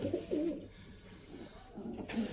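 Pigeons kept for flying coo close by, a couple of throaty rolling coos at the start and another near the end, with quieter murmuring in between and no talk.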